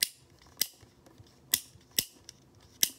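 Several sharp, snappy plastic clicks from a homemade pull-and-release fidget toy sound at irregular intervals, close up and crisp, with faint handling noise between them.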